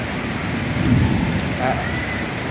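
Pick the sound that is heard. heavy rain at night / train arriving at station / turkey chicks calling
heavy rain at night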